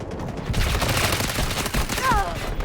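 Dense, continuous gunfire from the video game Delta Force, rapid overlapping shots filling the whole stretch at steady loudness, with a brief whistling tone near the end.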